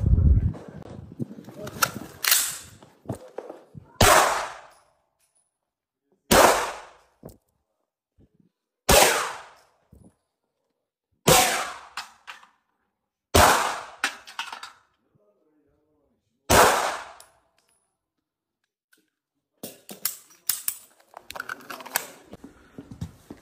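Canik handgun fires about eight sharp, loud pistol shots at a 5-metre range, spaced a few seconds apart, with people talking between the shots.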